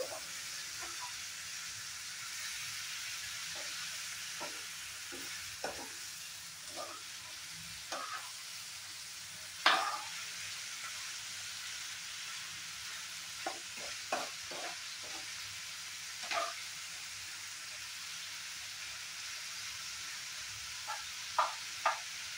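Mixed vegetables with cauliflower stems, carrot and radish fry in a pan under a constant soft hiss, while a spoon stirs them in scattered light scrapes and knocks, one louder clank near the middle.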